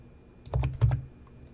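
Two quick presses of computer keys, a Ctrl+E shortcut during 3D modeling in Maya, short close clicks over a quiet room hum.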